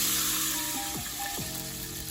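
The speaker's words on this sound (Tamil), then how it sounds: "கொஞ்சமாக தண்ணி விட்டுக்கலாம்." Water hisses and sizzles as it hits a hot pan while making bread halwa (double ka meetha), a steady bubbling frying sound close by.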